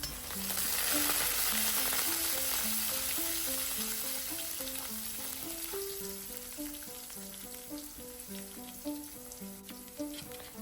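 Sesame seeds, green chillies, curry leaves and chopped coriander sauté in a hot Gujarati tempering for dudhi muthiya, giving a steady close sizzle and crackle that stays loud and continuous throughout, with no voices.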